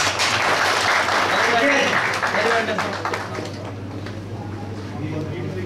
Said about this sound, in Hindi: तो तालियां भाई।